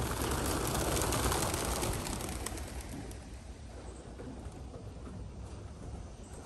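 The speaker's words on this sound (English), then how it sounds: "I'm going to show you how the birds come out so quickly." A loud burst of flapping wings as many pigeons fly out of a loft at once, fading over a few seconds into softer fluttering and background rustle.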